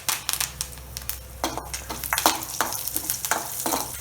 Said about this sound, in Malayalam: കറിവേപ്പില വെളുത്തുള്ളി നന്നായിട്ട് വഴറ്റിയെടുക്കുക.